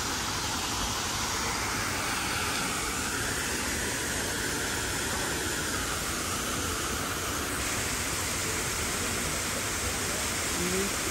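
A waterfall in the Chinese Garden of Friendship in Sydney pours in a steady, dense rush of falling water, heard up close and unchanging throughout.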